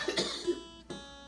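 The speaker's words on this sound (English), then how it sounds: "Don't cough on your wiener." A single cough sounds while turkey wieners are prepared in a home kitchen, with a short harsh burst, a second catch soon after and a later fainter rasp, close and alone.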